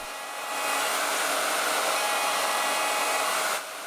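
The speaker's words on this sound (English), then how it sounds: "I always make sure to use the biggest router bit that I can to do most of the work here whenever I'm doing pockets" A large-bit router runs at high speed, cutting a bolt-on style neck pocket into a Les Paul style guitar body, a steady loud whining roar that starts and stops cleanly, with no talk.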